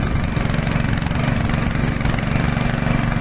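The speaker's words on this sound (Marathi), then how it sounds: "बघा तसं ट्रॅक्टर तिथं जात तो बघा तो ट्रॅक्टर" A tractor engine drones steadily at a low, throbbing idle, loud and close, with no voices, while ploughing a muddy rice paddy field.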